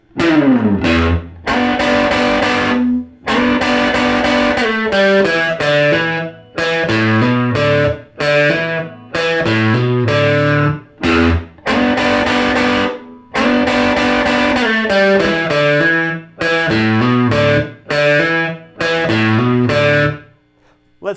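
Electric guitar plays a blues riff, a choppy, repeating riff of short bursts and held notes with a gritty, overdriven edge, loud and close, with brief pauses between phrases.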